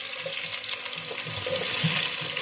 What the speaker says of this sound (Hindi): जो प्याज कटी हुई मैं इसमें डाल रही हूँ। ऑयल हमारा गर्म हो गया है।